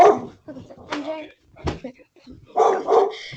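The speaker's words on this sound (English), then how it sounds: "Who's barking?" A dog barks in the background of an online Python class for kids, with short bursts scattered among overlapping voices and a louder double burst near the end.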